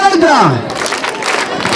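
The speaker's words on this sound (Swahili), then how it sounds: "Piga makofi" A crowd of schoolchildren claps together at a primary school ceremony opening two new classrooms, a dense burst of hand claps following a brief shout, close and fairly loud.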